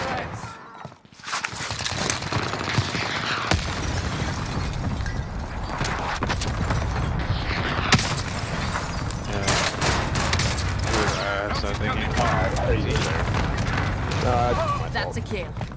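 Gunfire in the video game Warzone on Rebirth Island, dense rapid shots and impacts running throughout, loud and close, with players talking over the action.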